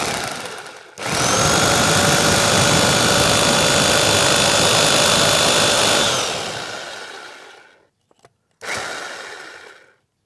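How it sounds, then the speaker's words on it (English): A large electric drill bores holes into a wall, running as a loud steady whine for about five seconds before winding down, then a short second burst starts after a brief pause. "So here I'm using the big drill, so I don't need to make the holes with a smaller size"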